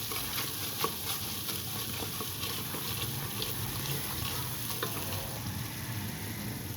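Steady sizzling and frying from a pot as whisked yogurt and spices are stirred in, with soft scraping and bubbling at close range throughout, no talking.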